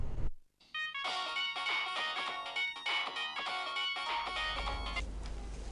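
A mobile phone ringtone plays as a melodic repeating tune, starting after a brief gap and continuing at a clear, moderate level.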